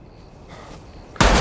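In a scene from The Last of Us, a soldier fires a single sudden gunshot that cracks out loudly after a quiet, tense moment.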